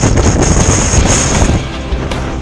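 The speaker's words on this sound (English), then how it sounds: "It is hailing and the wind is blowing directly into us." Hard wind roars steadily across the microphone during a hailstorm on a ski slope, a loud, continuous buffeting rush with no voices.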